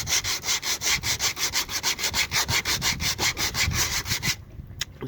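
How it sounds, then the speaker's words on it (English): Rhythmic back-and-forth sanding of hard fiberglass on a boat with 60-grit paper, gelcoat repair work, steady scratchy strokes close up for about four seconds, then stopping abruptly. "keep sanding basically."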